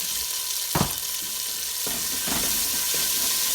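A lentil patty mixture sizzles steadily in a hot pan with a continuous, bright hiss, broken by a few soft scraping stir strokes.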